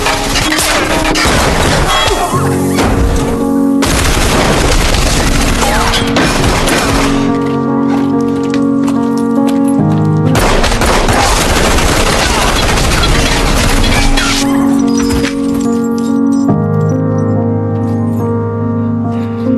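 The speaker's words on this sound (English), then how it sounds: "He instantly drew his gun and fired back." Gunfire from an action film shootout, dense automatic bursts and single shots layered over a score, loud and continuous throughout with crashes mixed in.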